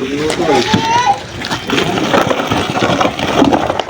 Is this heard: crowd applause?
no